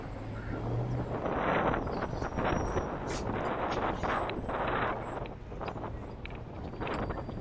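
Strong gusting wind roars on an exposed country hillside, buffeting the microphone in loud, continuous surges with brief lulls between gusts.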